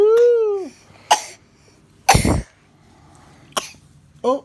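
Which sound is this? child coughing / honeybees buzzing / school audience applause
child coughing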